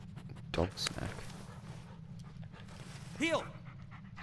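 A dog pants in the Blair Witch video game: quick, breathy huffs that come in short bursts between faint background ambience, with a whimpering, rising vocal tone near the end.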